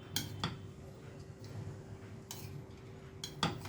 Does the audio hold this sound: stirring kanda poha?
yes